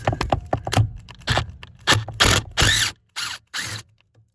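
A tool works a stubborn bolt during a V12 engine swap on an Aston Martin, giving a run of close scrapes, cracks and ratcheting clicks. Bursts get longer and louder toward the end, with brief pauses between them.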